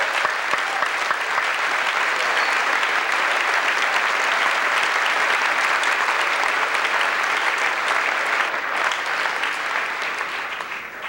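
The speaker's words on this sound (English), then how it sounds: "So let's give Paul a warm round of applause as well." A warm, sustained round of applause from a crowd in the old Pella Christian High School gym at a 1990 state championship celebration, loud and steady clapping that carries on for the whole stretch before tapering slightly at the end.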